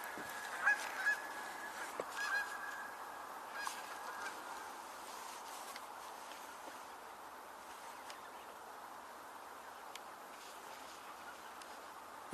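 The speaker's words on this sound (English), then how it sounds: "You can see the geese are not all that calm right now." Canada geese honk at an evening roost, with scattered nasal calls coming from a distance over a steady hiss of ambient background.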